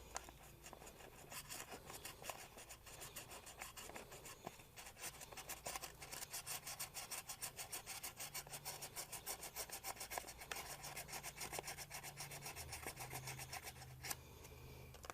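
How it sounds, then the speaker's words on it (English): Steady back-and-forth rubbing of very fine 3000 grit sandpaper while working on a Honda E1500 generator part, a continuous close rasping scrub with a faint low hum underneath and no talking. "This is 3000 grit sandpaper."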